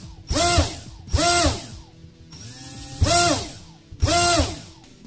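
A brushless motor on a Turnigy Multistar 15A ESC flashed with SimonK firmware spins up to full throttle with no delay, whining up and back down in about five sharp, loud bursts separated by short pauses.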